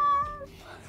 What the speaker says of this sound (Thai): แมวกระโดดไปมา อยู่ข้างล่าง